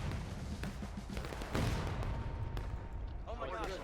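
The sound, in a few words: cannon artillery fire in a video game battle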